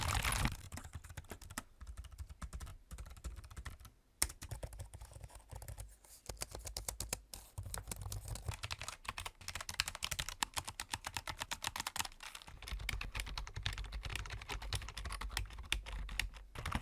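Typing on a low-profile mechanical keyboard, the Logitech G915, with rapid, steady keystroke clicks and a few brief pauses, fairly quiet and close up with no voices.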